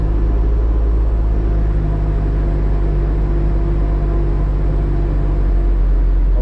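A car engine runs on a dynamometer at about 1,500 RPM, giving a loud, steady, close low rumble and hum with no change in pitch and no talking.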